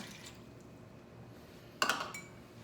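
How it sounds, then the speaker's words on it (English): About a cup of water is poured into a crock pot holding tri-tip chunks, a short, close splash and trickle of about half a second after a quiet kitchen background. "Gonna put about a cup of water in there."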